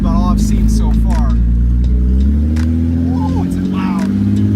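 A BMW 328is M Sport with no catalytic converter drives with a loud, steady engine drone that rises slightly midway, close and constant throughout, with people talking over it.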